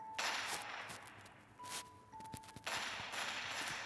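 Gunfire from a modded gun in Minecraft on PojavLauncher, a quick run of faint sharp shots followed by a thin electronic tone, then more rapid shots, all fairly quiet.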